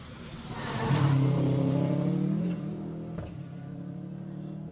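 A rally car races past on a Jersey Rally stage, its engine revving loudly as it approaches, then the pitch drops and the note fades as it speeds away into the distance.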